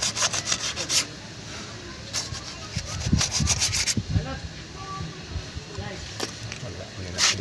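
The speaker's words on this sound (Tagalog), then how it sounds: "Lihain natin dahil nahawakan para hindi siya magdulas." A multicab brake shoe is rubbed with sandpaper in short rhythmic bursts of scratchy strokes, close and fairly loud, with pauses between sets while someone talks.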